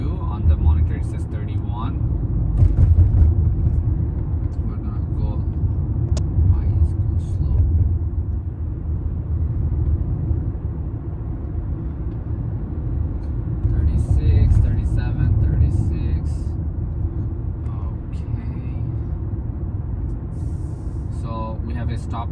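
Car driving on a road with openpilot driver assistance engaged, a steady low engine and road rumble that swells slightly as it accelerates, under continuous nearby talk.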